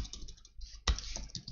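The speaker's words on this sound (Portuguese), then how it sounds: "eu quero dar só um enter aqui" A single firm keypress of the Enter key on a computer keyboard, a short sharp click standing out near the middle against low room noise and faint background sound.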